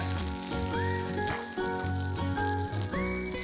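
Green peas tipped onto crackling sesame seeds in hot oil give off a steady, close sizzle with faint stirring, all under continuous tonal background music.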